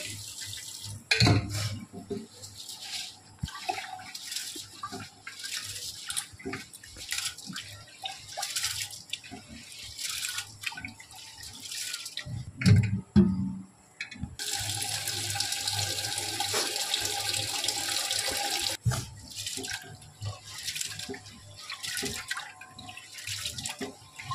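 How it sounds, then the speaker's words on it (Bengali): Rice being rinsed by hand under a running kitchen tap while making chicken biryani, with steady close water flow, splashing and a few knocks of a pot, growing louder and fuller midway. "এই চালটা আমি ভালো করে ধুয়ে নেবো"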